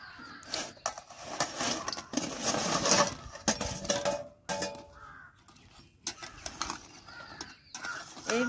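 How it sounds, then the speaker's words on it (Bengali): Crispy fried semolina sweets are dropped onto a plate, making a run of close, sharp clattering impacts that land in quick, irregular bursts. "এই যে মুচমুচে শব্দ শুনতে পাচ্ছ, থালায় ফেলছি তো"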